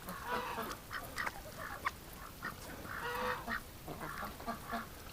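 Ducks in a pen on a frigid -18°C winter day, quacking and honking in short overlapping bursts, close by but fairly soft.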